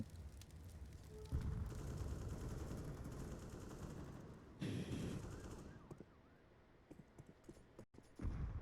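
AK rifle fire crackles in a Counter-Strike esports match on the Vertigo map. Rapid bursts come in two loud stretches over a dense, noisy game mix, fading into quieter scattered shots near the end.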